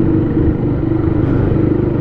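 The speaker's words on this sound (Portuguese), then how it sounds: "Você já viu minha moto com cano barulhento?" Motorcycle with a loud straight-pipe exhaust and the muffler removed, rumbling steadily and close at a constant low roar throughout, with no talk.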